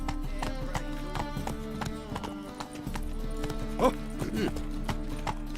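Roach, a horse in The Witcher 3, gallops with steady, rapid clip-clop hoofbeats close by, a brief whinny rising midway, and a short spoken exclamation over the hooves.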